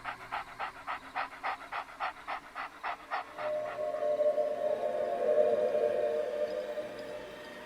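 A dog pants rapidly and happily in a steady, close rhythm of quick breaths, then shifts into a sustained droning whine-like tone that fades out.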